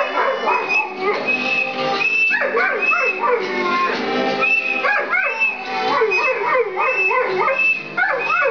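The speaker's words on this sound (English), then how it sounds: "Ryan is on accordion, and our singing dog, Georgia." A dog howls and yips along with a live band of bass, guitar and accordion, its wavering, rising and falling cries riding loudly over steady music throughout.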